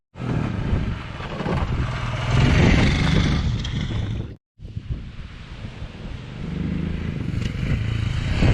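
A Royal Enfield Himalayan 411 motorcycle is ridden on a test ride. A loud, continuous engine drone mixes with heavy wind buffeting on the microphone, breaks off for a moment midway and then resumes at a steady level.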